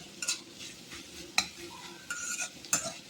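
Tomatoes, egg and murungakkai sauté in a pan, with a spoon stirring and scraping in short repeated strokes over a soft, low sizzle, heard close and fairly quiet.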